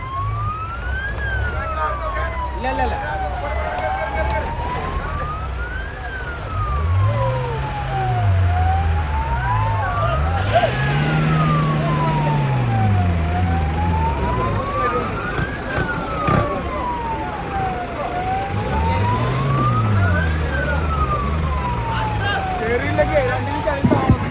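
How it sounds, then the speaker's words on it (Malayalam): An ambulance siren wails in slow rising and falling sweeps, loud and close, over the rumble of a vehicle engine and road noise. "ആംബുലൻസ് സൗണ്ട് പെട്ടെന്ന് നോക്കാക്കല്ലേ"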